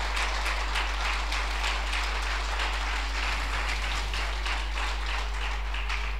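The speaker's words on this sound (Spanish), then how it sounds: "Dale un aplauso al Rey de Gloria." A church congregation applauds together, a dense, steady wash of clapping that fills the whole stretch at an even level, with no voice standing out above it.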